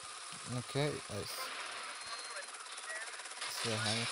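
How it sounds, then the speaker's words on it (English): Faint, steady whooshing rotor noise of a helicopter in GTA Vice City, with short bursts of voices near the start and end. "It's a helicopter."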